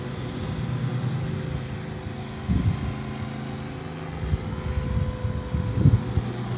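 A Walkera V450D03 RC helicopter flies outdoors on a windy day, its steady rotor and motor whine droning continuously with gusty buffeting and a few louder surges as it maneuvers.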